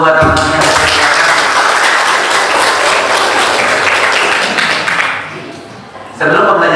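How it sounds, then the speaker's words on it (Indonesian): Classroom full of students bursting into loud, dense applause that carries on for about five seconds and then fades, with a teacher's voice speaking before and after. "boleh beri aplaus dulu buat teman-teman"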